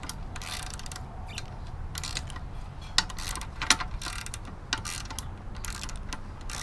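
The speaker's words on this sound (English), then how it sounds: "This is ratchet." A ratchet wrench works a bolt loose on a Toyota 3SGTE engine during E153 transmission removal, giving a steady mechanical clicking texture with a few sharper clacks, close and fairly quiet, with no talking.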